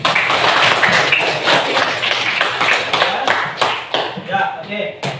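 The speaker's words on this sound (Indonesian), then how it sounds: "beri tepuk tangan dulu untuk Wandi" Classroom applause for a student named Wandi during an Indonesian arts lesson: loud, close clapping from a group of pupils, steady for several seconds then thinning into scattered claps, with voices murmuring underneath.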